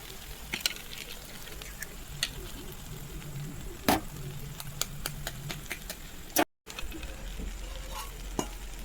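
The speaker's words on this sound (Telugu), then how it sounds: "ఎగ్స్ పోస్తున్నా." Eggs are poured into a pan of tamarind-leaf curry, with a soft sizzle and a long hiss that swells midway, broken by sharp scraping clicks of a utensil against the pan.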